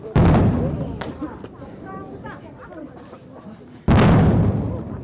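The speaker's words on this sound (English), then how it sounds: "They've fired a number of rounds, I think, into the air" Riot police fire rounds into the air during protests in Amdho Labrang, Tibet: two loud, sharp reports a few seconds apart, each one near and booming with a decaying echo, and excited voices and crowd noise between them.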